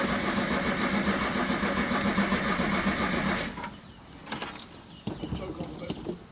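An old vehicle's engine cranks and sputters in a rough, steady mechanical churn for several seconds, then cuts out, leaving quiet with a few clicks and faint rattles.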